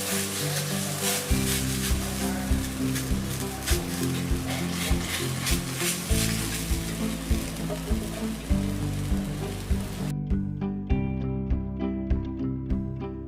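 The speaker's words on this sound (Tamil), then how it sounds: "இப்போ வந்து கேஸ் பற்ற வச்சு தவா வச்சு ரொட்டி செய்யணும்." Ragi roti cooks on a tawa over a gas flame, giving a steady, close sizzle with a pulsing rhythm. Near the end it thins to lighter, scattered crackles.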